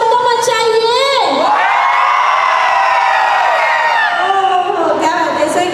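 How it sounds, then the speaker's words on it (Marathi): A crowd of wedding guests at a haldi ceremony cheers and shouts loudly and close, with sustained whoops and yells from many voices, both men and children, rising and falling together. "अरे लडके वाले जरा शोर तो मचाइए"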